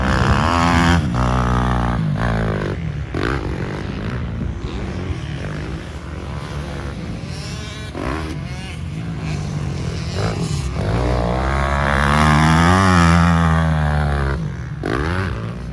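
Motocross motorcycles run a warm-up lap on a rutted dirt track, their engines revving and rising and falling in pitch, loud and continuous throughout.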